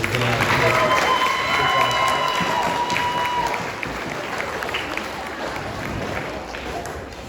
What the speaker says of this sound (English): Give them one more round of applause as they stand